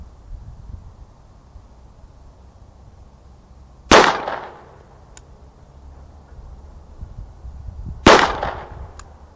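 Two sharp, loud gunshots from Buffalo Bore 25 ACP 60 grain hard cast flat point ammunition crack about four seconds apart, each with a short decaying tail over a quiet background.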